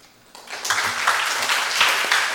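Applause breaks out in a municipal council chamber during a children's council session in Blumenau, starting quietly and swelling within half a second into a dense, steady crowd clapping that continues to the end.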